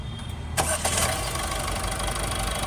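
A 2016 Ford EcoSport engine cranks and catches at about half a second, then settles into a steady, close idle hum for the rest of the clip, with no talking.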